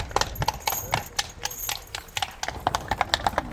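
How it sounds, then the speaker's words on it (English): A horse-drawn carriage clip-clops along a street in Krakow at Christmas time, with a steady run of crisp, moderately close hoofbeats and a bright metallic ring on some strikes, with no talk. "You could try and have a walk with this horse carriage to see the city."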